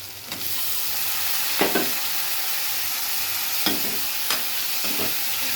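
Chicken pieces sizzling and frying in hot oil with onions and spices in a pan, a steady close hiss broken by a few stirring scrapes, with no voices.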